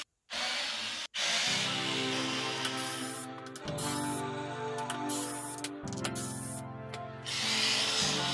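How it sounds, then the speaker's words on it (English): An electric screwdriver whirs in repeated steady bursts, each a few seconds long, close and clear, as it undoes screws during a teardown of a Bowers & Wilkins speaker, with brief clicks between runs. "I will use my electric screwdriver to get them open."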